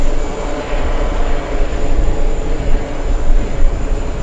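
British Airways Speedbird 113 airliner arriving from Heathrow on final approach, a steady broadband jet roar that holds loud and fairly constant throughout with no voices over it.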